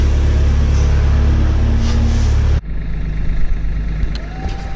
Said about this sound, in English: So I got the skid loader here, the bale forks on it.